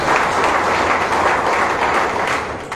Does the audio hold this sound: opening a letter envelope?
no